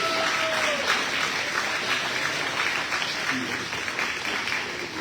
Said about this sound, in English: I'd like you to stand up so we give you a round of applause